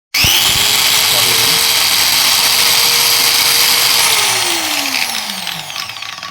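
A Bosch 650W angle grinder starts up with a sudden loud, high whine, runs steadily close by, then slowly winds down as the pitch drops. No one talks over it.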